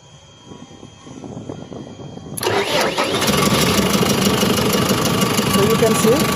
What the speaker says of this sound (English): So you can see now it's starting.